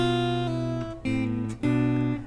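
Three strummed guitar chords from the Prelude of a suite ring out in sequence, each sustained about half a second before the next, clear and close with no talking.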